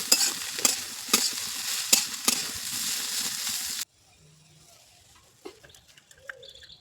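Radish greens with garlic and onion sizzle and crackle as they are stirred in a pan, with rhythmic spatula scrapes for about four seconds, then fall to a quiet stretch holding faint bird calls and light clinks.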